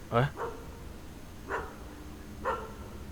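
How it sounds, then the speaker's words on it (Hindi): Dog barks in a horror graveyard video game: three or four sharp, moderately loud barks spaced about a second apart over a low ambient hum, with no talk over them. "कुत्ता कौन यहाँ पे कहाँ से आ गए?"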